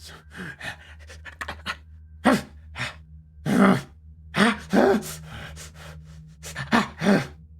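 A voice imitates rapid, ragged panting from a creature behind a door in a windowless room, with irregular breathy gasps and snorts in bursts over a low steady hum, close and fairly loud.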